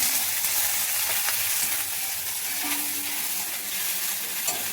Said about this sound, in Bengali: পেঁয়াজটা দিয়ে দিচ্ছি কড়াইতে। একটু সামান্য তেল দিয়েছি